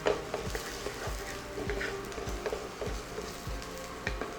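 Onions browning in a pan hiss with a steady sizzle, with soft taps of stirring spaced at a regular beat and no voices.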